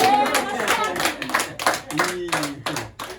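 Clapping hands at a surprise birthday party on a set, a dense burst of applause that swells and fades in waves, mixed with overlapping excited voices and chatter throughout.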